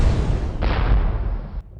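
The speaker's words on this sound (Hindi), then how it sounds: "आसमान में लगातार अनगिनत तोप के गोले फटने लगे" Anti-aircraft cannon shells bursting in the sky above a city: a dense, roaring wall of rumbling blasts that swells suddenly partway through and cuts off near the end, loud and continuous with no voices.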